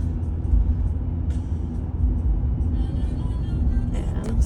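A car drives along a road through the Badlands near Drumheller, giving a steady low rumble of engine and tires that fills the whole stretch, close and continuous.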